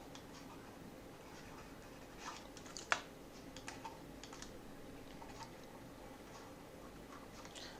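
Computer keyboard typing, soft irregular keystrokes close by and fairly faint, with one sharper key tap partway through and no talking.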